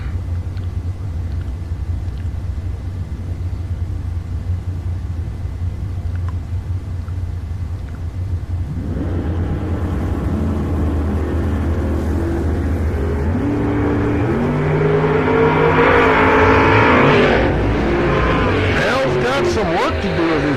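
At TriState Raceway, a Camaro drag car rumbles low at idle, then roars off the line with a loud, rising engine wail that builds and peaks near the end.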